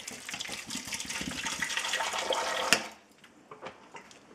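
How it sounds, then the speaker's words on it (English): Hot water pours from a tap into a bowl of antibacterial soap, a steady gushing rush for about three seconds before it stops, leaving a few faint drips and splashes. "Add some hot water"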